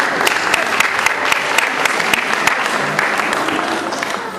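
An audience applauding after a dance performance at a 2012 Gudi Padwa cultural program, loud continuous clapping from a large crowd with a faint voice mixed in.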